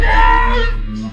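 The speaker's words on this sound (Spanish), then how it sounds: "es por culpa de los gritos estos raros que metiste" Strange screams and wailing played as a sound effect on a Spanish-language morning radio show, a loud, sustained, tonal cry that fades toward the end.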